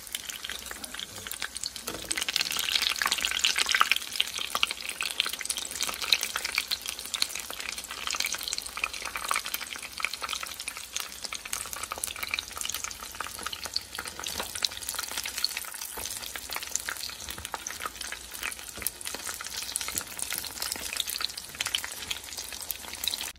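Spaghetti egg rolls frying in hot oil give a steady, even sizzle and crackle throughout, fairly soft and continuous, with no voices.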